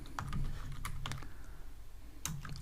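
Quick bursts of computer keyboard typing, light plastic key clicks in an irregular rhythm, close and fairly quiet with no voice over them.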